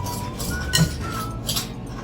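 Butter and sugar whisked in a bowl, light clinks and scrapes of the whisk against the bowl, close and moderately quiet, a couple of sharper taps standing out.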